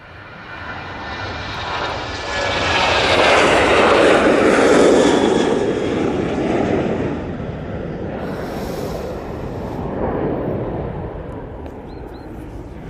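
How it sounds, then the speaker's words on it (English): A Ryanair Boeing 737-800 rolls for takeoff at Manchester Airport, its jet engines building to a broad, loud roar that peaks and then eases as it climbs away, with no talk. "Ryanair 737 800 now on the roll."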